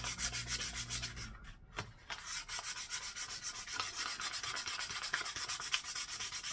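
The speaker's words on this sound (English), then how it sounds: "I just got some 320 sandpaper right now. I'm taking over it just to get the file marks out." Sandpaper of 320 grit rubs back and forth across a steel axe head to smooth out file marks, a steady close scratchy rasp in rapid repeated strokes with one brief pause.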